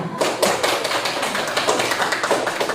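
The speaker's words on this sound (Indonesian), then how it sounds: "Berikan aplaus untuk kelompok 2." Audience clapping at a group presentation session in an Indonesian university classroom, a steady dense patter of many hands for nearly three seconds with no talk over it.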